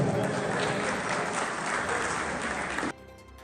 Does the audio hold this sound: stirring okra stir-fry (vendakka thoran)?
no